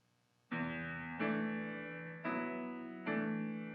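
Four sustained non-triadic piano chords struck one after another at a slow, even pace, each ringing with dense, unusual harmony and no talking.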